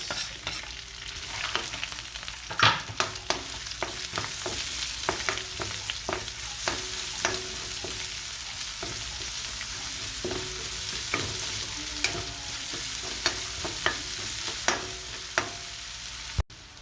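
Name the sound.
sautéing garlic and onion in a pan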